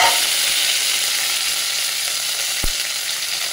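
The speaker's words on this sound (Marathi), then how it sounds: "हे मी तुपाची फोडणी करत आहे." Garlic and curry leaves sizzle in hot ghee for a tempering, a constant dense crackle close by, with a single low knock partway through.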